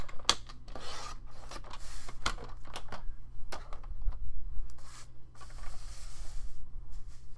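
Scissors or a blade trimming a quarter inch off a greeting card for scrapbook ephemera, heard as close, soft rasping cuts and rubbing in several bursts, with no talking.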